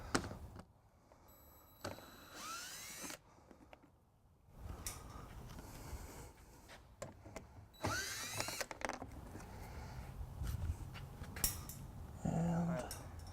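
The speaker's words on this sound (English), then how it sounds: "And we'll just be using the drill." A power drill whirs in repeated short bursts as it backs out bumper bolts on a 2016 Mini Cooper Countryman during a trailer hitch installation, with clicks and pauses between runs.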